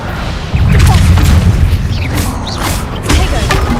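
Bombarda explosion spell cast in the video game Hogwarts Legacy, a loud low boom that swells at about half a second and holds, with a second rumbling burst near three seconds amid game effects.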